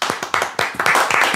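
A few people clapping close by, quick uneven claps in a loose irregular rhythm, crisp and loud for a short burst.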